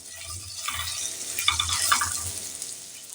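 Fennel seeds and asafoetida frying in a little oil on low heat as a tempering for a Bengali pumpkin chakka, giving a soft, steady sizzle with a few gentle stirring scrapes, fairly faint and close.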